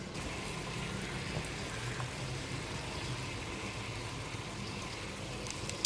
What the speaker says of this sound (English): Right, the water is boiling. So in go the shiitakes